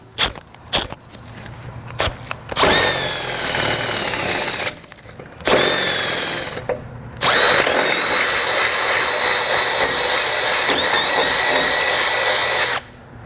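A power drill enlarges bolt holes in the steel frame of a 2018 Ford F-150, whirring loudly in three long close bursts separated by brief pauses, preceded by a few short clicks and rattles.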